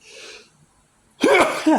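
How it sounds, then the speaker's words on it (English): A faint breathy sound, then a short pause and a loud, close sneeze with a sharp burst and trailing vocal tail. "probably got to sneeze here in a second."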